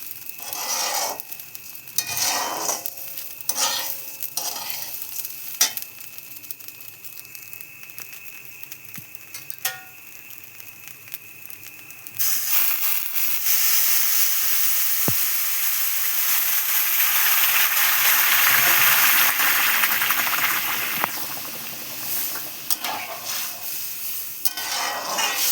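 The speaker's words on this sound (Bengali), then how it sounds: "চালটা ভালো করে নেড়ে নিয়েছি, এখন দেবো জল, দেবো চালে।" Rice stirred in a hot pan with a soft dry scraping and light sizzle, then water poured in, bringing a louder, steady hiss of steam and bubbling that fills the rest.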